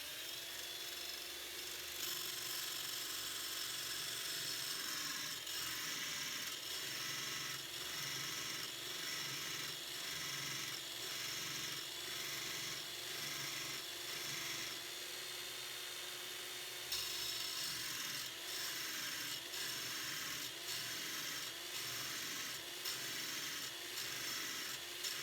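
A Parkside PBSG 95 C3 drill bit sharpener runs with a steady, thin grinding whir and a faint rhythmic rasp, continuing without pause and shifting slightly partway through.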